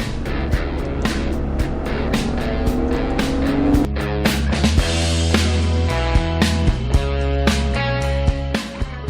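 A Jeep Wrangler with a V6 engine and 8-speed ZF automatic accelerates hard, the engine note rising steadily through the gears with loud, close revving and sharp clicks and knocks over it.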